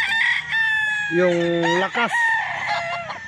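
A fighting rooster crows loudly and close by, one drawn-out cock-a-doodle-doo with a rising and falling call, while a voice briefly speaks over it.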